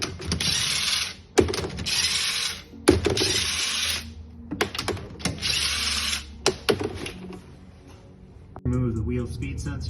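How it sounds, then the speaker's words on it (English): Lug nuts on a 2008 Honda CR-V rear wheel are broken loose with a 19mm socket and ratchet, giving repeated loud bursts of ratcheting clicks separated by brief pauses, with a low mechanical rumble underneath and some background noise. "Break the lug nuts with a 19mm socket."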